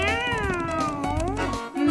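A cat meowing in one long, wavering, drawn-out cry, close and fairly loud over a faint background.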